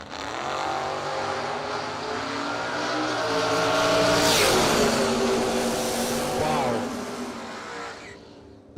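A fuel-injected Corvette drag racing down the right lane, its engine revving loudly and shifting through gears as it passes close, swelling and then fading, with an announcer's voice faintly underneath.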